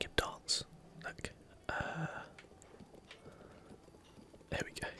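In Zelda Breath of the Wild, a horse's hooves clip-clop in sparse, irregular taps as it dances. The sound is faint and close, with soft whispering around it.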